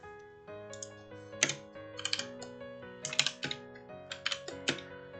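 Someone types on a computer keyboard, producing irregular clusters of crisp, close keystrokes with brief pauses between bursts, and no voices.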